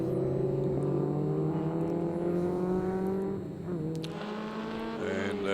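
Historic Formula Ford race cars on a track scream past at close range, their engines holding high, buzzing revs with overlapping drones that dip and shift in pitch as the pack goes by.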